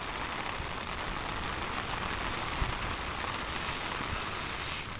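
Rain falling on an umbrella, a dense, steady patter of drops close overhead that stays constant and fairly soft throughout with no voices.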